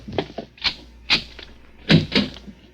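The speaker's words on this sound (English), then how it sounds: "Open the other door, Joe." Old-time radio drama door effect: a series of sharp wooden knocks, latch clicks and thumps in four or five bursts, close and dry, with no voices.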